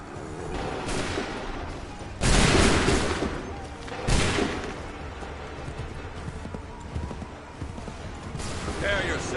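Musket volley fire in the game Assassin's Creed 3, two loud ragged bursts of massed gunfire a couple of seconds apart among battle noise and shouted voices.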